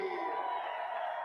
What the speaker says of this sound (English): How about a big round of applause for Dangerous Dan